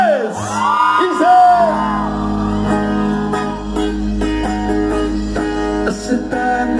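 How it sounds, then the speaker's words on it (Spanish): Women in a festive crowd shout, whoop and cheer loudly over music with sustained tones at a ranch celebration, with voices rising and falling together. "Las manos arriba de las mujeres, el grito de las mujeres"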